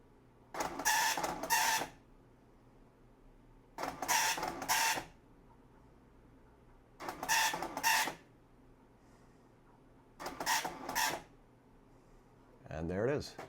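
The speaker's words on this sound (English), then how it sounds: "This is actually an Oki printer, but it supports Pro Printer emulation." An Oki dot-matrix printer in Pro Printer emulation prints graphics in five evenly spaced bursts of buzzing, rasping head passes, each lasting about a second, with quiet pauses between them. The passes are close and loud.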